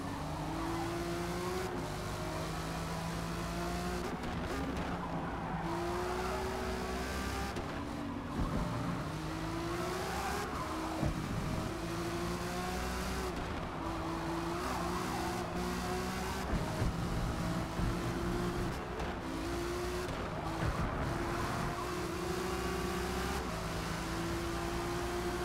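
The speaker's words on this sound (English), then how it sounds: "Drag race between the NSXs here." Honda NSX race cars in Forza Motorsport at Catalunya drone steadily through a sustained drag race, their engines rising and falling through gear changes over a constant roar, with no talking.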